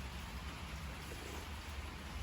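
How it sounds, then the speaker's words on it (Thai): Light, steady rain falls throughout, a continuous soft hiss with a low rumble underneath, outdoors in a rural Thai setting while mushroom curry is being cooked; no voices. "บรรยากาศฝนรินริน"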